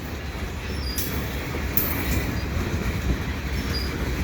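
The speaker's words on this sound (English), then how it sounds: "this is a really slow tanker train headed west" A slow westbound tanker freight train rolls steadily past, a continuous low rumble of wheels on rails with occasional faint high squeals.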